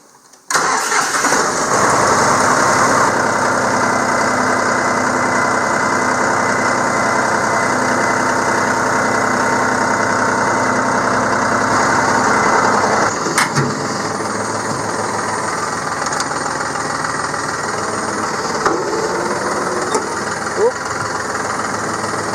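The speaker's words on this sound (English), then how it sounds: "Got the Modern Ag Products little cutter hooked up to the John Deere" A John Deere 5303 tractor engine starts up and runs at a loud, steady idle close by, with a slight change in its note partway through.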